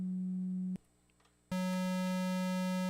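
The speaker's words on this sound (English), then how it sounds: "Sine wave, hypothetically, no harmonics, just the fundamental." A steady synthesizer sine wave tone holds, cuts out for a moment of near silence, then returns louder and brighter with a buzzier edge.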